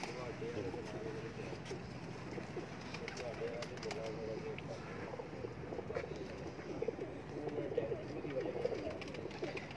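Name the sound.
pigeon cooing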